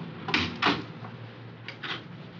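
An office door shuts with a couple of short, close knocks and thuds, followed by quieter clunks of the latch, with no talking over it.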